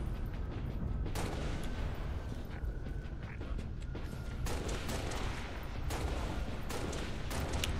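Dense, continuous gunfire from a first-person shooter fight in Halo: Reach on Legendary difficulty, with rapid overlapping shots and sharper bursts standing out throughout, loud and steady with no pauses.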